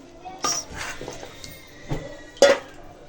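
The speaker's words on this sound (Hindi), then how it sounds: "जी मैंने कढ़ाई ले ली है, अब इसमें ऐड कर दूँगी मैं चिकन" Chicken pieces going into a metal kadai (wok) with a few clanking, scraping knocks of utensils against the pan, spaced out and fairly close, while someone talks quietly in between.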